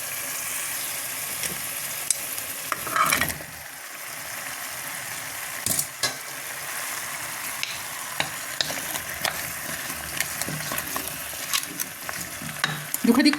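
Tomato sauce with red pepper and salt being stirred in a pan, a steady sizzling and bubbling bed with scraping spoon strokes and occasional clinks against the pan, close and continuous.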